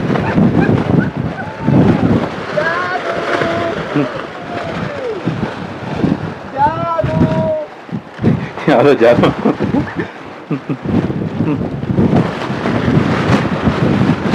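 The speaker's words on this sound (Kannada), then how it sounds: "ಗಾಳಿ ಮಾತ್ರ ಫುಲ್ ಐತಿ ಇಲ್ಲಿ" Strong wind buffets and roars across the microphone almost continuously in Chikmagalur, with people talking and calling out over the gusts.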